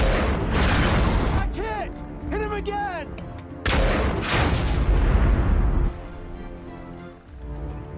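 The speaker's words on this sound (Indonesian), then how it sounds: "Mereka melepaskan tembakan yang menghancurkan satu tank panzer." Loud bursts of gunfire and booming explosions as a Panzer tank is destroyed in a war film, with a whistling sweep in the middle and a heavy blast that rumbles and fades; a voice talks over parts.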